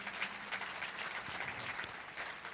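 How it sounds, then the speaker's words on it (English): An audience at a World Bank Annual Meetings session claps steadily, a warm wash of applause that holds at an even level from start to finish. "A round of applause for her"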